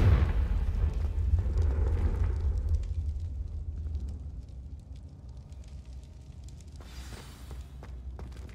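A Confringo blasting spell explodes in Hogwarts Legacy as a heavy, rumbling boom that slowly fades into a crackling, hissing tail with scattered debris-like pops.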